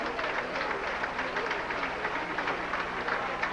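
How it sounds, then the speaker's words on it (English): A round of applause from both sides of a high school football field, a steady wash of distant clapping from the crowd that holds evenly throughout. "Getting an excellent round of applause from both sides of the field."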